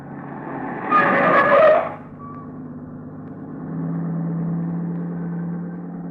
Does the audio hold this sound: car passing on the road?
yes